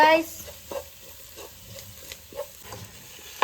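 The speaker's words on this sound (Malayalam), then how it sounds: "ചിക്കൻ പൊരിക്കാണ്ട് എണ്ണയിലേക്ക് ഇട്ട് കൊടുക്കാണ് കേട്ടോ" Chicken pieces fry in oil for a biryani, a continuous close sizzle punctuated by regular scraping stir strokes every half second or so.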